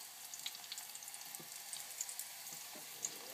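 Sweet potato chips frying in hot oil, a faint steady sizzle with scattered small pops and crackles, quiet and close with no talk.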